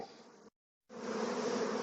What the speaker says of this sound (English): Spilt a few bees right here